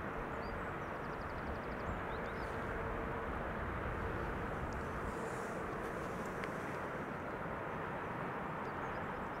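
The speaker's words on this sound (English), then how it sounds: "That would be KLM flight 644, which today is flown in an Airbus A330." A KLM Airbus A330 wide-body airliner arrives, its broad, steady jet roar holding at a constant level throughout, with no voices.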